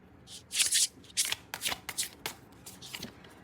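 Tarot cards being shuffled by hand in a quiet room: several crisp riffling bursts, the longest near the start, followed by shorter brisk flutters and light taps.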